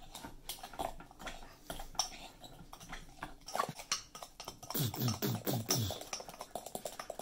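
Banana bread batter mixed by hand in a jar gives quiet, irregular scraping and clicking strokes that grow more rapid and rhythmic toward the end, close and soft.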